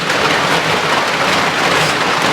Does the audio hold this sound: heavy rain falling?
yes